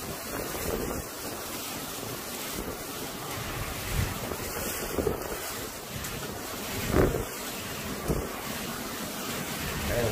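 Strong derecho wind roars steadily and loudly with gusts and microphone buffeting, a broad rushing blast that swells and ebbs over the whole stretch with no voices.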